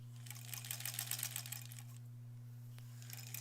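Sewing machine stitching along the edges of a Swan embroidered zipper pouch, a steady close whirring run that speeds up and then stops, with a brief quieter burst near the end, set over a constant low mains hum.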